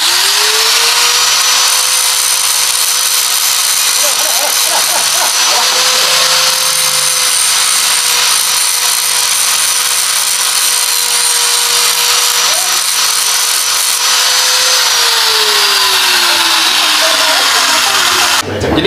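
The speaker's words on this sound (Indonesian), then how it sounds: "Jadi sekarang saya mau menggurinda ini sedikit ya, buat nanti di las" An angle grinder works a metal bracket for a motor scooter's front shock stabilizer, a loud continuous high whine that stays steady for most of the stretch, then winds down near the end.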